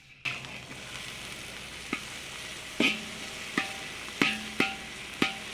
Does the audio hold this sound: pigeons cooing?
no